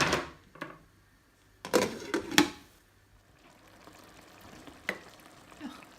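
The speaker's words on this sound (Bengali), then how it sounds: "কাটিয়া রাখা টমেটো সারি দিব। সারিয়া বালা করে লাড়িয়া মশলার লগে মিশাই লইমু" Chopped tomatoes being stirred into spice masala in a pan for a Sylheti tomato fish curry, sharp bursts of sizzling and clattering spoon scrapes between quieter gentle frying.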